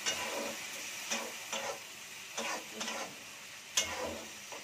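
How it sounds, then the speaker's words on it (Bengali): A boiled ingredient sizzles faintly with spices in a pan with a little oil, with a steady low hiss broken by soft scraping and tapping as it is stirred. "ওইটা ঢেলে দিলাম মশলার সাথে, দিয়ে কষবো"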